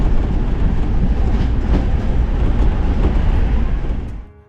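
An express train, the 12354 Lal Kuan–Howrah superfast, thunders along the rails at high speed, a loud continuous rumble and rattle heard close up that fades near the end.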